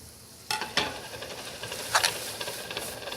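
Vegetables hit a hot pan for green onion fried rice, bursting into a sharp sizzle followed by scraping stir-fry strokes and intermittent hissing spurts, close up and moderately loud, with no speech.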